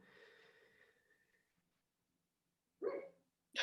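A dog waking from a dream gives a couple of short, muffled barks or woofs after quiet breathing and snorting, close by and fairly faint.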